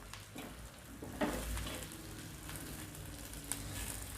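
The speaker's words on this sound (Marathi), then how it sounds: "मसाला छान भाजलेला आहे" Masala with grated coconut and dal dry-roasting and being stirred in a pan, a soft continuous sizzle with light scraping, close and fairly quiet.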